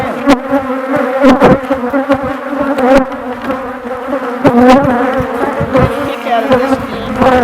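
Honeybees buzz loudly and close at an open hive. Layered droning hums swell and waver, crossed by sharp clicks and knocks from handling the frames.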